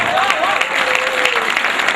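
Dense audience applause at a poetry mushaira in Wardha fills the clip steadily, with a sung or spoken voice weaving faintly through the clapping.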